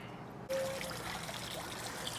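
City water rushes into a travel trailer's hot water heater tank after the anode rod change, starting abruptly with a sudden burst and then a steady, close gushing pour.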